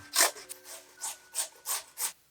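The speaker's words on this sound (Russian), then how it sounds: "Берем одну большую крупную картофелину и натираем на крупной терке." A large raw potato is rubbed over a coarse grater in six rhythmic, close-up rasping strokes, each a bright scratchy swipe with short pauses between, no voices present.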